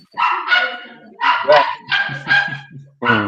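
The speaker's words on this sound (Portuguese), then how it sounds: "Nossa, cachorrinho." A small dog gives several short, sharp barks in quick succession, fairly close and moderately loud, with people talking over and between the barks.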